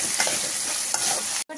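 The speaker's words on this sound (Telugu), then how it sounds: "వేసి బాగా ఫ్రై చేసుకోవాలండి" Sliced bitter gourd fries in a pan, a dense, bright sizzle filling the clip with a couple of soft stirring scrapes, close and steady until a brief cut near the end.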